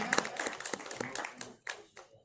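Scattered clapping from an audience at a university Krishna Janmashtami poetry event, uneven and moderately loud, with a voice speaking briefly over it.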